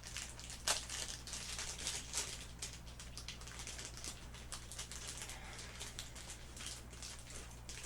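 A small plastic bag from a Disney fall mystery box is handled close up, giving a run of soft crinkles and scattered sharper crackles, quiet and continuous with no talk over it.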